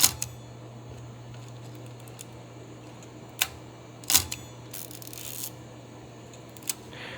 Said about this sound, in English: When you hear that ratcheting, you're advancing the frame counter, you're also advancing the film.